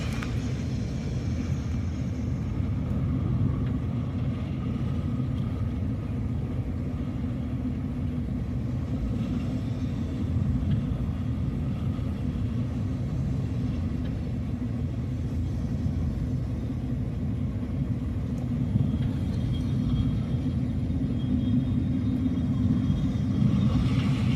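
A vehicle pulling a trailer loaded with bulls rolls along slowly, giving a dense, steady low engine and road rumble that stays loud and close throughout with no talk over it.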